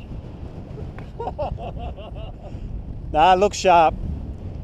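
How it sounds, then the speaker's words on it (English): Strong gale-force wind in the Simpson Desert buffeting the microphone with a constant low roar, while someone speaks briefly and another voice calls out over it. "That's how windy it is today. It's blowing a gale."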